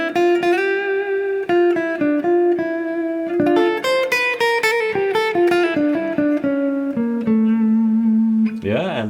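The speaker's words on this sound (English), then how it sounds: "When I use a clean sound to play solo, I normally use this one." A Gibson Les Paul Deluxe electric guitar plays a clean-toned solo, a continuous run of sustained single notes and quick melodic phrases, close and steady with no talk.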